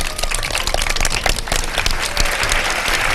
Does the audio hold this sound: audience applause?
yes